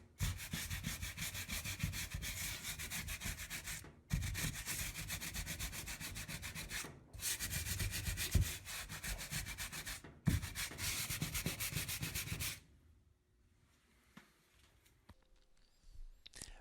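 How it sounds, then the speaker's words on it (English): Steady, rhythmic rasping of 100-grit sandpaper on a sanding block scrubbing a drywall patch in long continuous passes, with brief pauses between, then near silence at the end. "after sanding both blocks with the 100 grit sandpaper for a period of time"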